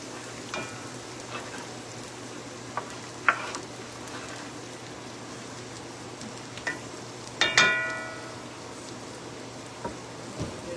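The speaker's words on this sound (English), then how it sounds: "get your onion and start sauteing down real, real good" Half an onion sautés in a pan for gravy beside an oxtail dinner, giving a soft, steady sizzle with a few scattered clicks and one sharper utensil clatter, and no talking.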